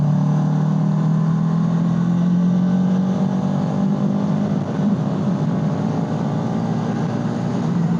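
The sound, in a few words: vehicle in 4th gear accelerating, then throttle cut off for engine braking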